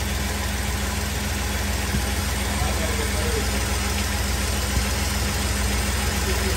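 A 1997 Chevy S10 pickup engine, just after an oil adapter gasket change, idles steadily nearby with a low, even rumble and no change in pace.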